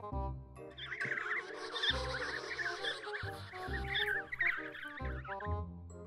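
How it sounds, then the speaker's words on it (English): A penguin call: a run of squeaky, bleating cries, faint and at middle distance, over a plain low tonal bed. "Penguin."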